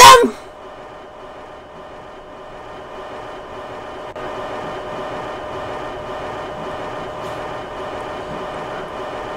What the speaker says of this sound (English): This is our getaway train.